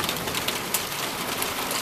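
Steady rain falling outside a window, a dense even hiss with faint pattering drops throughout, close and constant with no voices.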